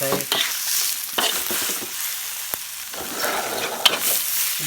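Carp fish meat stir-fried in a pan for Thai larb: sizzling close up, with a scraping stir at the start and another near the middle, and small clatters along the way.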